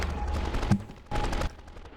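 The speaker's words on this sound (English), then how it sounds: "someone is shooting at me a whole lot and not hitting anything" Gunfire in the video game 24: The Game, two dense bursts of rapid shots about half a second apart, close and sharp against a steady game-noise background.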